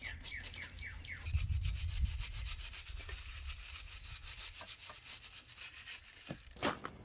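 Close, rough rubbing and scrubbing as grit is cleaned out of the cam area of an engine block, in irregular strokes with occasional sharper scrapes.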